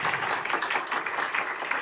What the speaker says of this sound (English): You should give yourself an applause for that.